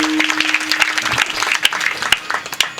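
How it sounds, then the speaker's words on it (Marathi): A crowd claps for the village at a devotional kirtan gathering, a dense burst of applause with sharp individual claps standing out, fairly close and loud. "गावासाठी एकदा टाळ्या वाजवा"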